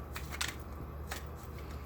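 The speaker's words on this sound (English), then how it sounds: "I did not do a pre-card shuffle. I like to go ahead and do it here on with you guys." Tarot cards are shuffled by hand in a few quick riffling bursts, close and fairly quiet over a steady low background hum, with no one speaking.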